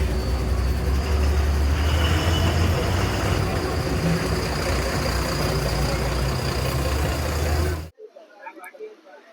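TNSTC Gemini coach bus pulling away on a Coimbatore to Tiruchendur route, its engine a loud, steady low rumble for about eight seconds before cutting off abruptly, leaving only faint scattered noises.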